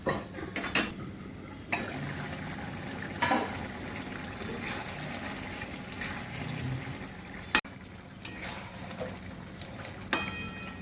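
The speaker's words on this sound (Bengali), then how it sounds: "এবার ঢাকা দিয়ে দেবো" Clinks and clatters of cookware sound over a quiet simmer as a lid goes onto a pot of ridge gourd with prawns, with a few scattered knocks and one sharp metallic clack.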